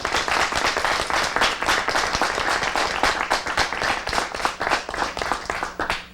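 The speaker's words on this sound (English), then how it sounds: "Those who believe yes, please applaud." An audience at a Colorado Springs debate on legal recreational marijuana claps in a vote, the sharp individual claps clearly separated and fairly close, loud at first and thinning toward the end.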